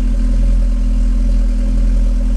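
A newly built 2.0 turbo car engine idles just after its first start, giving a loud, steady, low rumbling hum with an even mechanical pulse and no voices.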